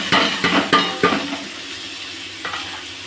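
Gobindobhog rice coated with ghee and ginger paste frying in a wok, a run of sharp scraping stirs and clinks against the pan over a soft sizzle, then quieter frying with one late scrape.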